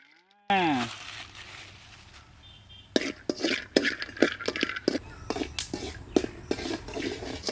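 Almonds and cashews tossed into hot ghee in a pan, with repeated clinks and scrapes of a spoon against the metal and soft sizzling throughout, close and fairly quiet.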